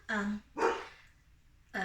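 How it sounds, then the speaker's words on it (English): A dog barks a few times with short gaps between the yelps, fairly close and loud, with no other sounds in between. "my dog is barking from outside the room"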